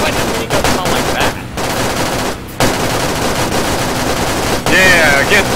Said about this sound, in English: Why does minigun sound like that?